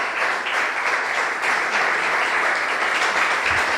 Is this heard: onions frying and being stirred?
no